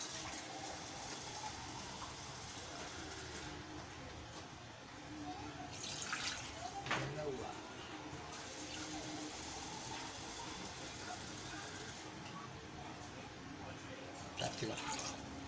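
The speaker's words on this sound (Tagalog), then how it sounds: "nilagyan ko na siya ng tubig" Water pours into a pot of browned chicken for tinola, about three glasses' worth, giving a steady, faint, continuous splashing close by that runs throughout.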